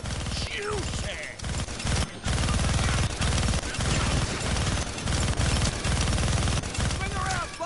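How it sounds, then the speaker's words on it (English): Minigun fire in the Deadpool video game, a continuous loud mechanical stream of rapid shots with brief breaks and bursts, close and dominant, with occasional voices over the din. "Gonna need both hands to shoot that minigun."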